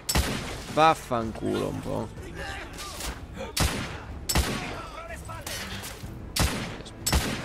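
Gunfire in the third-person shooter The Order: 1886: a series of sharp, loud shots spread through the clip alongside other game sounds, with someone talking over them in Italian.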